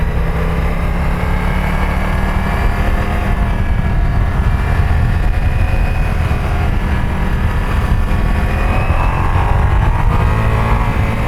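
A Ducati Multistrada V4S motorcycle engine pulls hard in second gear on an Alpine ride, with a loud, steady, dense roar that holds without a break, mixed with heavy wind rush.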